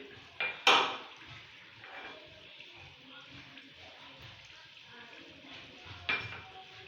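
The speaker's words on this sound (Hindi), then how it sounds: "अब मैं इसे अच्छी तरह मिक्स करूँगी, साथ ही थोड़े से बादाम" Khoya halwa being stirred with almonds in a pan, with a few sharp metallic clinks of the spoon against the pan over faint background noise, and a quiet voice now and then.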